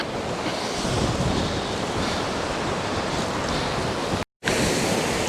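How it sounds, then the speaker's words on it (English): Strong wind buffets the microphone on a coastline while waves surge and wash nearby, a loud continuous roar of rushing air and surf with a momentary dropout near the end. "this wind is pretty horrendous."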